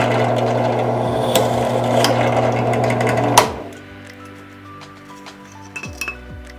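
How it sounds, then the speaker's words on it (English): A drill with a 1/4 inch Forstner bit whirs steadily as it bores a small hole in a jar lid, then spins down abruptly, followed by a few light clinks. "we took a Forstner's bit, 1/4 inch, smallest one in the package, and then right in the center, we're going to drill a little hole"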